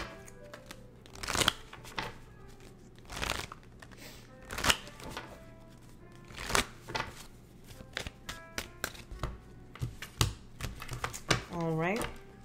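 Tarot cards are shuffled and drawn in a series of crisp riffling bursts and soft flicks, close and fairly quiet, with a person speaking intermittently between the card sounds.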